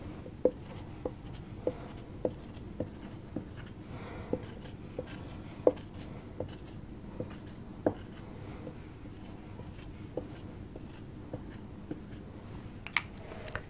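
Numbers written by hand for a probability lesson, the pen or chalk making a steady run of short, crisp taps and scratches at a regular pace over a quiet background.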